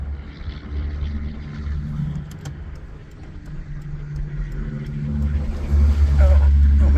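A Bugeye sports car driving along, its quiet exhaust giving a steady low engine rumble that grows louder and heavier toward the end.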